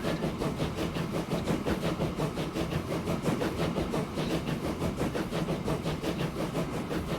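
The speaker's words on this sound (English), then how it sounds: "What a beautiful locomotive." Locomotive in the train game Transport Fever 2 running along, a steady rhythmic rumble with a regular repeating pulse like wheels over rail joints, moderately loud and continuous with no talking.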